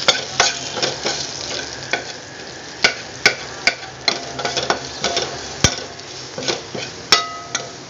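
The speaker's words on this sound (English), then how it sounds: "To this I will now add the onion, chopped onion." Chopped onion sizzles steadily in hot oil with hing and turmeric, a constant frying hiss broken by sharp stirring clicks of a utensil against the pan, with no voices.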